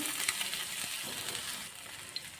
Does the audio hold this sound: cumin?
yes